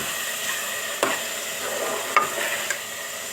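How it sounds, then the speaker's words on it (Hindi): Ground masala of turmeric, chili powder and salt frying in a pan while being stirred, a steady soft sizzle broken by a few scraping stirs, close and alone. "अब इसको मसाले को हम भूनेंगे।"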